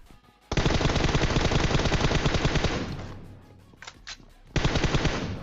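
Rapid bursts of automatic gunfire in PUBG Mobile, a long sustained volley that fades, a couple of quick pops, then another loud burst; game-style shooting, no talking.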